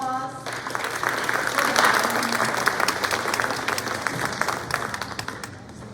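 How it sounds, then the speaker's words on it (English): An audience at a junior class college information night in a school setting applauds, a dense steady round of clapping that lasts several seconds and fades slightly at the end. "let's give them a round of applause"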